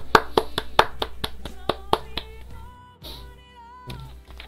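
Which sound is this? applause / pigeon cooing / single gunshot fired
applause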